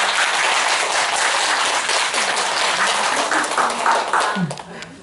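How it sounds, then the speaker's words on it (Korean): A room full of people applauds steadily at a Buddhist temple's anniversary Dhamma talk, a dense wash of clapping that fades out toward the end. "다 박수 치고 경력해 주시기 바랍니다."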